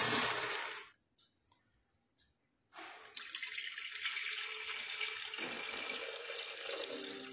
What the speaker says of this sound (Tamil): ஸோ தண்ணி வந்து தேவையான அளவுக்கு நம்ம ஃபில் பண்ணிக்கலாம்.